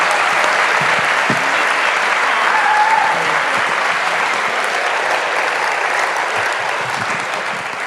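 Loud, dense applause from an audience after a talk with Conservative MP Zac Goldsmith, a steady wash of many hands clapping that holds for the whole stretch and fades slightly near the end.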